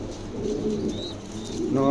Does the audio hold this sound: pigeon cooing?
yes